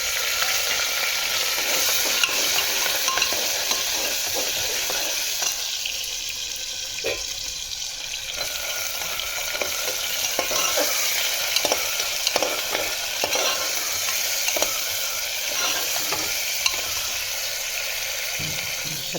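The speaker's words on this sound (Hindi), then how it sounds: "अब हम इसमें डालेंगे टमाटर।" Onions and tomatoes sizzle and fry in a pan, a steady hiss broken by scraping and clinking as they are stirred, close and with no talk.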